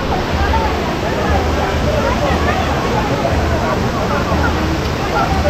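A waterfall at Vagamon, Kerala, running with fairly low water, gives off a steady, dense rushing roar that stays even and continuous from start to finish, with faint voices mixed into the wash.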